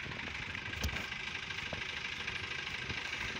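A tractor engine idles in a village setting near a canal, giving a steady, low mechanical rumble with faint vibration that continues without a break.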